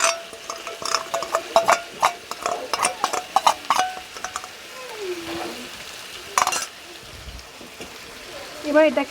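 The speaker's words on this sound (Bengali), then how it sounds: "দিয়ে একসাথে বেশ খানিকক্ষণ কষাতে হবে, যতক্ষণ না তেল ছাড়ছে।" Chicken keema is being stirred and fried with a yogurt spice paste, giving a rapid run of metal spoon scrapes and clinks against the pan over a soft sizzle, then quieter stirring, with brief speech partway through.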